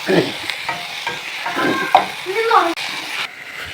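Drumstick (moringa) leaf stir-fry sizzling in a pan while being stirred, a steady close frying hiss broken by scraping stirs of a spatula.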